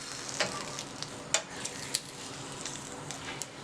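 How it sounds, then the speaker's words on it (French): Courgettes sautéing in a little oil in a frying pan, with a steady sizzle and a few sharp stirring clicks and scrapes at irregular intervals, close and fairly quiet. "On met un peu d'huile et on fait revenir le tout."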